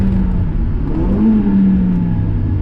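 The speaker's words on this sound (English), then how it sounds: "So this is full throttle." A race car engine drones loudly and steadily at full throttle on a race track at Gingerman Raceway, with a rising whine partway through, heard as if from inside the car.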